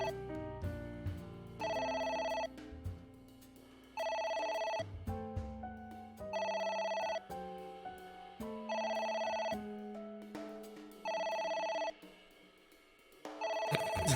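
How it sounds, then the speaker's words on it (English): In the video game AI: The Somnium Files, a phone rings in six clear, evenly spaced electronic bursts over a low musical background. Each ring lasts about a second and a half, and no one speaks. "We have to let it ring and stare at it as it rings."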